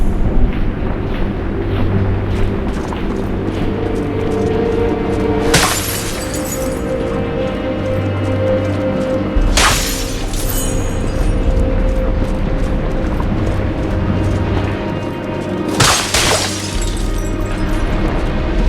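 Fire flare-ups erupt in a dwarf-carved deep well in Dungeon Siege III. Three sudden, loud, crackling bursts arrive several seconds apart over a steady droning game ambience, with no talk.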